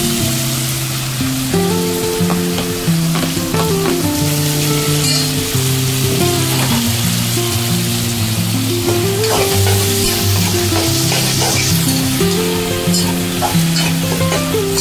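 Tomato and onion curry stirs and fries in a pan, with a loud, continuous sizzle and repeated spoon scrapes running throughout.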